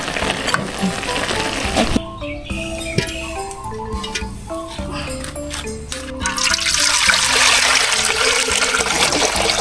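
Water trickles and splashes into a pot for stewing pork ribs with longan, a close, continuous pour with a few clinks and a steadier gush toward the end.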